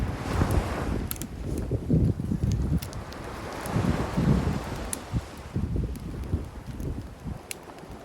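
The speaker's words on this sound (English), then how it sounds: "The wind is blowing" Gusty wind blowing outdoors beside a small twig fire on an island shore, rumbling buffets rising and falling, with faint crackles and rustling scattered on top.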